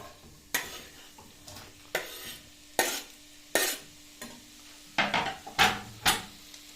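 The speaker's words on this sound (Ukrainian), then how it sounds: "На загриту патильню ми висипаємо нашу цибулю." Chopped onion tipped into a preheated frying pan for a chicken-heart salad, giving a low sizzle broken by a series of sharp stirring and scraping strokes against the pan, fairly close and irregularly spaced.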